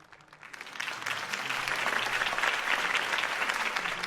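A crowd breaks into applause after a mayoral campaign speech, building from quiet within the first second into sustained, dense clapping that holds loud to the end.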